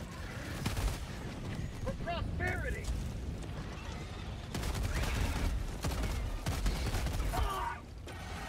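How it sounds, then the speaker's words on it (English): A napalm airstrike in the video game Helldivers 2 sets off a dense, rumbling barrage of explosions and bursts with crackling debris, loud and continuous, mixed with other game sounds. "Pretty mediocre napalm airstrike."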